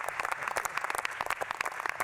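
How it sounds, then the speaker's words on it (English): An audience at the US Space and Rocket Center in Huntsville bursts into applause for Secretary Chao, many hands clapping briskly and evenly for two seconds, close and fairly loud with no voices over it. "How about a round of applause for Secretary Chow?"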